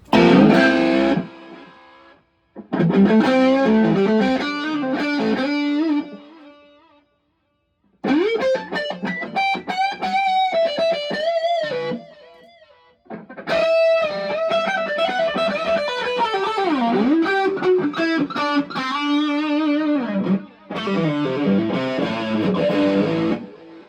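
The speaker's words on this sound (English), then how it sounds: "you can hear the slap of the ping pong delay coming from the AMPERO" Electric guitar phrases played in bursts with short pauses, each note echoed by a quick bouncing ping-pong delay from an Ampero effects unit, moderately loud with slight distortion.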